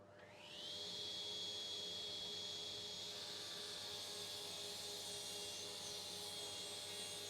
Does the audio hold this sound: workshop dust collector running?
yes